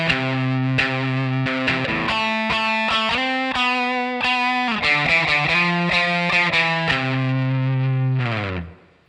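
A loud, distorted electric guitar plays a choppy riff, repeated notes and slides, ending with a sustained chord that cuts off abruptly.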